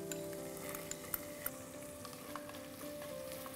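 Onions sauté in hot oil with chili, garlic and ginger paste for keema pattice, giving a soft, steady sizzle with a few faint scrapes, quiet and continuous and without talk.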